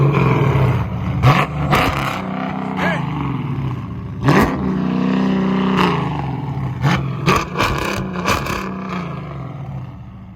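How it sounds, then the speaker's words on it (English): A Dodge Challenger Scat Pack with longtube headers and a straight-pipe exhaust roars through a series of sharp, loud revs in a street setting, with people talking between the bursts. "I'm about to go ahead and rev it a couple of times, man, so y'all hear what it sounds like."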